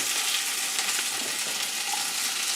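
Onions frying in a hot skillet, a steady bright sizzle that holds evenly throughout, close and fairly loud with no talking.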